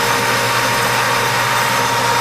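A metal lathe turning a workpiece being made into an adapter, its motor giving a loud, steady, even whir that holds unchanged throughout with no talk over it.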